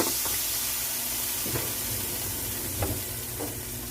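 Brisket sears in a hot pan with a steady, close sizzle and hiss throughout, broken by a few soft scrapes and clinks of a utensil moving the meat.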